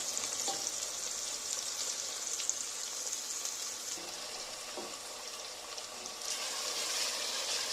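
Onions and tomato paste fry in a pan for Turkish dry bean stew, giving a steady, close sizzle with soft crackles and occasional stirring scrapes and no voices.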